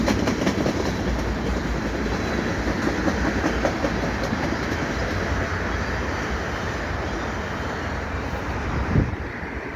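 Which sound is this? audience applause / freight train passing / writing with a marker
freight train passing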